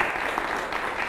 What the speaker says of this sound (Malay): Ayo kita berikan tepukan gemuruh kepada beliau.